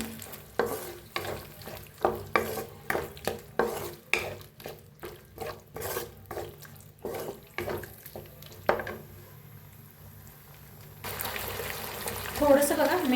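A spoon stirs chicken and tomato sauce roasting in a pan with rhythmic, close scrapes over a steady sizzle. The strokes then stop and water splashes in near the end.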